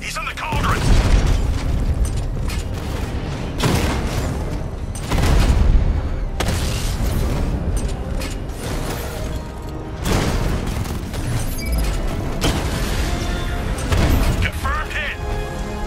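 Enemies fire at the player in Batman: Arkham Knight. Dense, continuous gunfire and booming impacts fill the game soundscape, with a person talking over the noise throughout.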